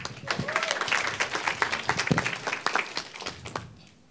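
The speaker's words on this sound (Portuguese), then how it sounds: "Palmas para ela." Audience applause after a speaker's call to clap for a participant at a Portuguese-language talk or seminar, a dense mix of many hands clapping with scattered voices and cheers, sustained for about four seconds before fading out.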